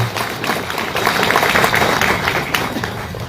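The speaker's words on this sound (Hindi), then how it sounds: "मैं सबसे पहले चाहूंगा इन दोनों लोगों के लिए ताली मारा के आप लोग इनको हौसला अफजाई करें।" Applause from an audience at a political gathering in Bermo, a steady wash of clapping that stays fairly loud throughout with a slight swell in the middle.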